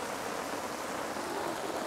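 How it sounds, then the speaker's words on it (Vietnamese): Heavy storm rain in Hai Phong falls as a dense, steady hiss that fills the whole moment without a break and without voices. "Mưa cực kỳ to lớn luôn."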